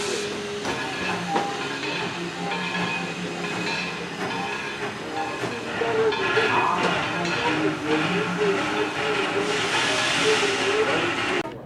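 East Broad Top steam locomotive 16 pulls into the station at sunrise on an early freight run, a steady hiss of steam and rolling rail noise building louder toward the end, close by.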